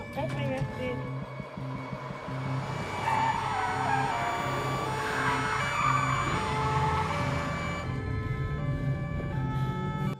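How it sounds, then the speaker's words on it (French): A fleeing car's tires squeal in a long skid during a police chase, loud and sustained with engine noise under it. Someone talks urgently over the sound. "Véhicule en fuite, direction rue du Valais."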